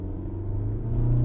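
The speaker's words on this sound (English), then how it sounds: "The engine might be a little bit noisy in first gear." A 2025 Opel Grandland GS Line engine drones in first gear from inside the cabin, a low steady rumble with a tone that rises slightly as it pulls away.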